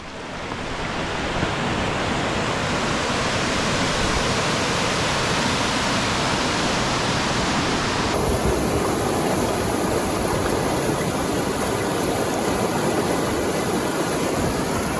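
A large waterfall in a boulder-strewn mountain valley roars as a loud, steady, broadband rush of falling water, continuous and unchanging throughout with no voices.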